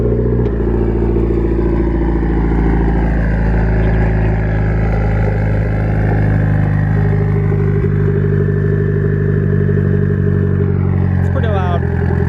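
A Mitsubishi EVO 8 race car set up for road-course driving, its loud engine droning continuously while under way, with a rising rev sweep near the end.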